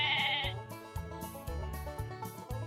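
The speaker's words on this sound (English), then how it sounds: "The lamb is a baby sheep." A lamb, a baby sheep on a farm, bleats over a few seconds in short wavering cries against a plain backing, with no talk.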